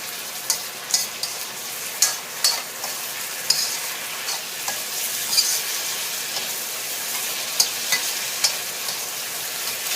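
Crispy fried catfish tossed and stir-fried dry with chili-ginger sauce in a hot pan, giving a steady close sizzle broken by repeated sharp scraping and clattering strokes of the spatula.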